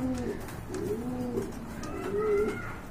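Pigeons kept by a bird seller coo in a low, throaty rhythm, with about three rolling coo phrases repeating close by over steady background noise and no talk.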